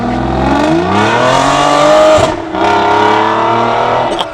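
An Aston Martin DB9 engine revs loud and close, its pitch climbing steadily through a gear. A brief dip follows before it pulls strongly again, alone with no talk.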